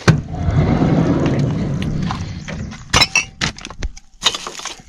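Empty glass bottles clang and clink against one another in bags of returnable empties, sharp bright knocks in irregular bursts over a low rustle of handling close by.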